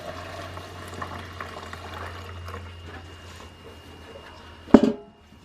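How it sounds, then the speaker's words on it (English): Cleaning solution pours into the tank of an ultrasonic cleaner as a steady, low liquid rush, and a sharp clunk near the end cuts it off. "we're just gonna try to pour this in there and not make a mess"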